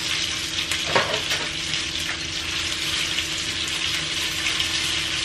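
Oil sizzles and crackles steadily in a pan as biscuits fry, with a few brief scraping stirs, close and continuous with no talking.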